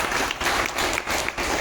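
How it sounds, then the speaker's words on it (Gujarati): Audience clapping for a tabla player at a Gujarati dayro folk gathering in Jamnagar, a loud, dense, continuous wash of many hands with a slight pulsing swell, no voices over it. "એકવાર જોરદાર તાળી બેનો ઉસ્તાદ માટે."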